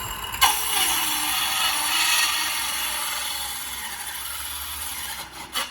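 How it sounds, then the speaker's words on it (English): A circular saw cuts through birch board about three-quarter inch thick with a steady, loud, harsh whine lasting about five seconds, then winds down, with no talking over it. "skill saw, not ideal. Yeah. But works."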